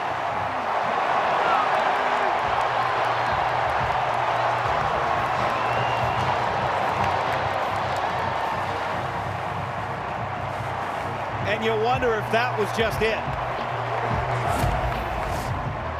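A stadium crowd at a Washington vs Indiana college football game roars in a sustained, distant wash of cheering and clapping, swelling briefly near the end while a commentator talks over it.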